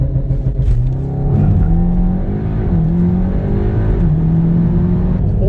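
A Volkswagen Golf R with a Stage 1 ECU tune launches hard, its engine roaring loud and close in a steady rising pull with a few gear-shift steps, no talking over it.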